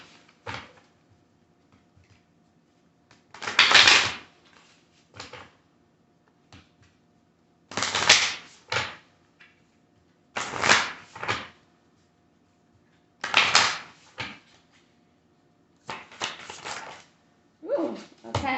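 Tarot cards drawn and handled during a reading, giving several short bursts of close shuffling and flicking that come in clusters with quiet gaps between them.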